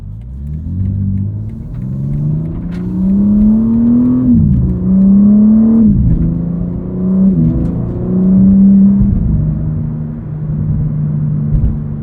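A 2023 BMW M4 CSL with an 8-speed automatic pulls hard on a street drive, its engine rising in pitch through several gears. Quick dips mark each shift before the note climbs again, loud and steady from inside the cabin.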